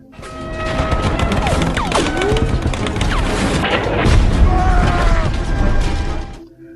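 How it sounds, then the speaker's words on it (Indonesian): Loud booming blasts and crashing debris, with rapid gunfire-like bursts and whistling tones, forming a dense, chaotic battle din that fades at the end. "tiba-tiba Red terkena ledakan yang membuatnya terluka parah"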